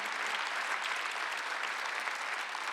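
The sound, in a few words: congregation applause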